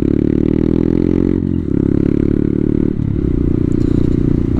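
Motorcycle on an open-road ride, its engine droning loud and steady with harmonic tones that shift at gear changes around mid-ride, plus rushing wind noise.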